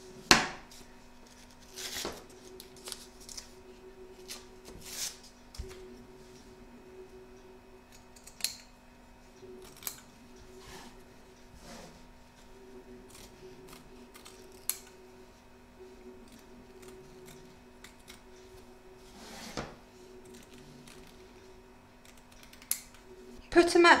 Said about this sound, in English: You're now going to trim up the excess batting and fabrics from both front and back of your hoop